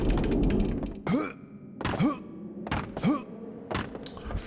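A locked, jammed door in the video game Clive Barker's Undying gives three dull, close thuds about a second apart as someone tries it, each followed by a short groaning, sigh-like vocal effort.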